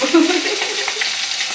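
Fish frying in a hot pan in a home kitchen, a close, steady crackling sizzle that carries evenly throughout with a brief low tone at the start and no speech.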